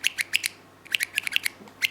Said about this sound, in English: The plastic rubs on the aluminum